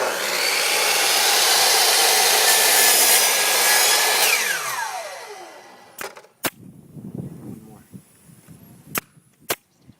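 Hand sawing through a piece of wood for a birdhouse, a loud steady rasp for several seconds, then fading into quieter knocks and sharp taps as the cut finishes.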